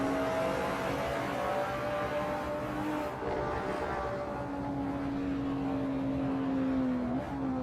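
Race car engine note in a sim racing series event at Imola, a steady sustained tone easing and shifting slightly in pitch as the car coasts into a corner, loud and continuous with no talk.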